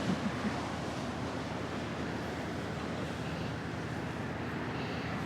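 People stir up waves in a warm pool or bath, giving a steady, close rush of churning, splashing water with a windy, broadband wash that holds level throughout and has no clear talk.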